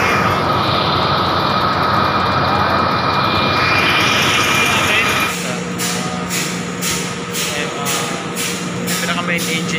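A newly delivered ship, the M/V Ability, running its main engine during equipment testing, a loud steady mechanical roar with a sustained whine that shifts to rhythmic pulsing partway through, people talking over it.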